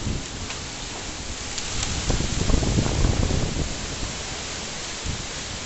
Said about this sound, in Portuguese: Chovendo gelo.